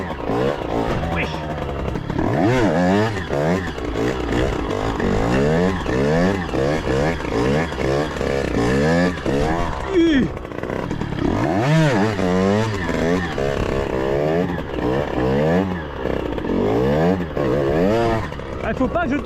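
A 50cc motorbike engine revving hard during stunts, its pitch climbing and falling again and again in continuous, loud, close sweeps that never stop for the whole stretch.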